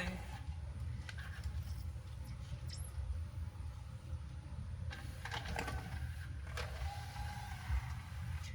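A Pioneer DVL-919 Laserdisc player spins a disc with a faint, steady mechanical whir, broken by soft irregular clicks and brief rattles.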